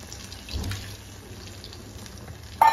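A mixer jar rinsed out with water in a home kitchen, a brief soft swish and splash of liquid, close and quiet, ending with a sharper clink.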